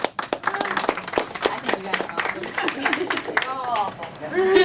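Scattered audience clapping at a presentation, loose uneven claps from a modest crowd with people talking and laughing over them.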